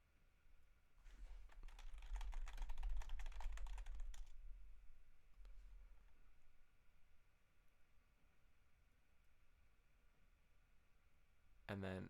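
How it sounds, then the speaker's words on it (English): Keys clatter on a computer keyboard as an email address is entered, a dense burst of rapid clicks for a few seconds, then fading to sparse faint taps over a quiet background. "then you type in your email address"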